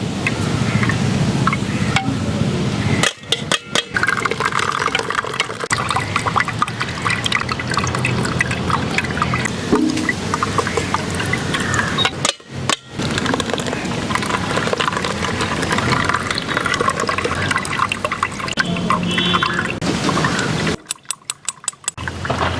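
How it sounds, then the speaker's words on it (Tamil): Ground cotton seed paste is strained into cotton seed milk in a village kitchen: a steady, continuous pouring and trickling of liquid, close and fairly loud, broken by a few brief clicks and short dips. "திப்பி இல்லாமல் அழகாக வடிகட்டி எடுத்துக்கணும்."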